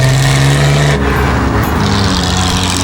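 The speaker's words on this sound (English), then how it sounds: "The roar of the big straight six engine is the best sound in the world to wake up to" The big straight-six engine of a 1971 classic car roars loud and close, a steady deep rumble with a brief shift in pitch partway through.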